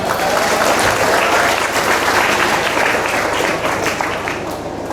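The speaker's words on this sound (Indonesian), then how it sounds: "Tepuk tangan." An audience at an Islamic religious lecture breaks into loud, sustained applause, dense clapping from many hands that fills the room and slowly tapers toward the end.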